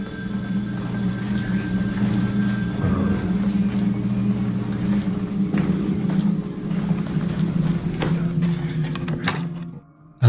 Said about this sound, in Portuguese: o telefone de um dos quartos toca sozinho quase toda a noite